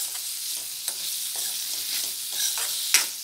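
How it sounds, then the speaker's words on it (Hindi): Onions frying in a pan until pinkish for a soya chunks curry, a steady close sizzle broken by repeated scraping and tapping strokes of a spoon as they are stirred, with no talking. "We shall cook onions till this turn to pinkish."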